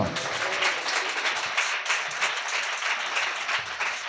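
A church congregation clapping hard in rhythm during worship, a loud, dense, fairly steady wash of hand claps filling the whole stretch with no voices.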